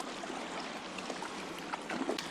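A kayak paddles out on the water of Newtown Creek, with soft splashing and trickling from the strokes, close and fairly quiet, a few louder drips near the end, no voices.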